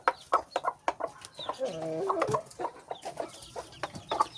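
A mother hen clucks softly to her chicks, her low repeated clucks mixing with the chicks' high peeping chirps, close and steady, with occasional voices in the background.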